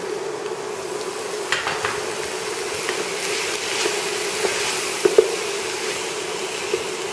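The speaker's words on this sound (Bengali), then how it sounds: "একটু খুন্তি করে চেপে চেপে নিয়ে এটাকে নাড়াচাড়া" A spatula stirs and presses parboiled potatoes with tomatoes in a pan for a Bengali-style vegetable dish, giving a soft continuous sizzle with scraping and a few sharp taps against the pan.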